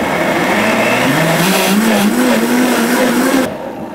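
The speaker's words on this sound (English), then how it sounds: "with the Vitamix, make sure your dial's down to 0, and then we're going to turn it on, and then we're going to turn the dial up" A Vitamix blender whirs steadily at high power while blending a green smoothie of kale, banana and peach, its motor pitch rising slowly as the dial is turned up, then dropping off abruptly near the end.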